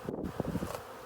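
A swarm of honeybees buzzing steadily and close up as they are introduced into a Kenyan top bar hive, a dense continuous drone with no voices.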